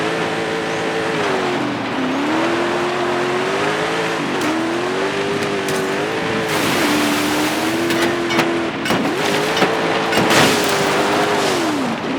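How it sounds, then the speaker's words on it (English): A supercharged Toyota Land Cruiser AT37 engine in Forza Horizon 5 revs hard with a loud, steady drone and a rising supercharger whine, climbing through several gear changes with short dips between pulls. "Great engine with supercharger for the sound, for the whine."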